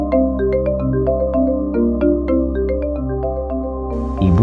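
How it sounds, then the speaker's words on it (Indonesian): A mobile phone ringtone plays a steady, repeating melodic pattern, loud and close, ringing alone without any voices in a quiet stairwell of an empty boarding-house corridor. "HP ku bunyi."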